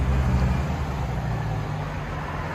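A Ford Mustang with a 5-speed manual transmission driving off, a steady low engine rumble close by that slowly fades slightly.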